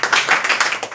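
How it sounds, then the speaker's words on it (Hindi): A classroom group bursts into loud, sustained clapping during a grammar lecture: dense, rapid hand claps that rise and fall unevenly throughout, with no talking over them. "जोरदार ताली।"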